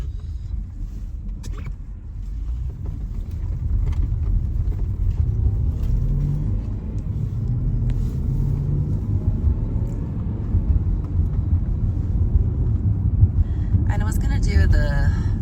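A car drives along a road, heard from inside as a steady, loud low rumble of engine and tyres that continues without a break, with faint voices now and then.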